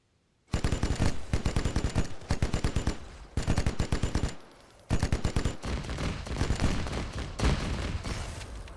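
Rapid bursts of automatic gunfire in a video game shootout, several loud, close volleys of machine-gun fire separated by short pauses, with no talking.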